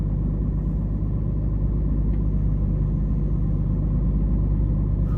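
A 2019 Ram with a 6.7L Cummins diesel idles after a cold start at -2°F, a steady, loud low-pitched rumble with even knocking pulses, close by and continuous with no talking.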